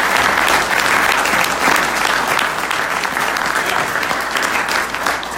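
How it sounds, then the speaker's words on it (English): Dense, sustained applause from a large congregation at a minister's sermon, steady and loud throughout with no pause. "Give yourselves a round of applause."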